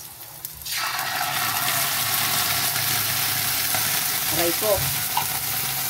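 Sardines hit hot oil in a pan for a sauté, bursting into a loud, steady sizzle with spitting splatter that continues throughout; a voice briefly cries out partway through.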